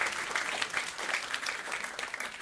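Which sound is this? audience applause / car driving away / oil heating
audience applause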